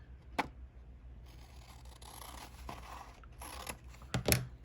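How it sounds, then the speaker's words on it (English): Scissors snipping through folded paper in a quiet room, a few short crisp cuts and faint scrapes at close range. "take my scissors"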